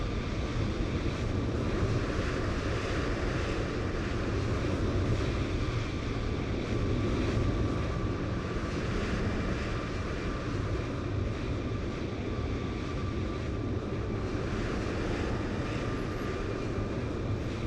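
An airliner departs in Microsoft Flight Simulator 2020 at Hong Kong airport, with a steady, broadband jet engine roar that holds at a constant level throughout, with no talking.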